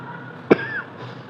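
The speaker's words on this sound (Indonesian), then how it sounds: "Maaf, batuk." One sharp, close cough stands out against quiet room tone.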